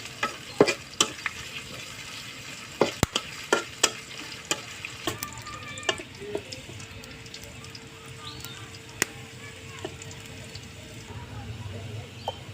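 Whole spices such as bay leaf, cinnamon and cardamom crackle and sizzle in hot oil nearby, with sharp irregular pops and clinks from stirring over a steady frying hiss.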